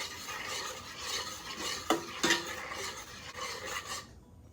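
A spoon scrapes and stirs through oatmeal mixed with packed brown sugar and pure maple syrup, producing a continuous soft, wet stirring with a couple of sharper clinks against the bowl.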